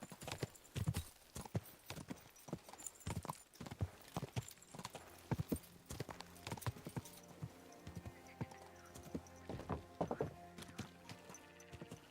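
Hooves clip-clop at a steady trot in the video game Kingdom Come: Deliverance II, close and fairly loud, with a horse's whinny and a low musical drone underneath.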